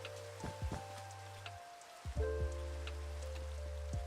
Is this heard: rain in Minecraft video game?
yes